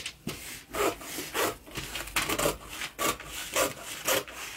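Scissors cutting through fabric for the front panel of a coat, a steady series of rhythmic rasping snips close by, with no talking.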